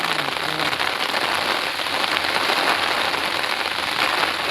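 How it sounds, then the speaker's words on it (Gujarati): Steady, loud rain falls outdoors in a village setting, a dense continuous hiss of drops hitting surfaces, unbroken and close throughout with no talking. "વરસાદ ચાલુ જ છે હો."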